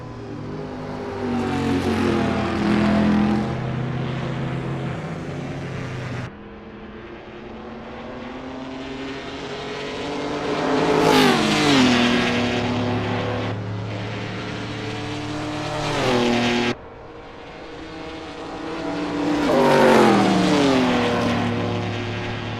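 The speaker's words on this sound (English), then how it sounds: "I love listening to the roar of these engines." Historic race car engines roar past one after another on the Monza 1966 circuit in the Assetto Corsa video game, each pass swelling loud and falling away with shifting pitch as the cars accelerate and lift.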